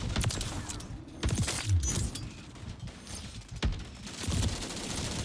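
Game gunfire from an online Call of Duty: Modern Warfare 3 match, with scattered shots and bursts in a busy, fairly loud mix against a constant background.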